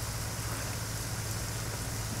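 Steady rain falls in Farming Simulator 19 on the Erlengrat map, a soft even hiss of continuous drops with a low hum beneath, constant and unchanging throughout.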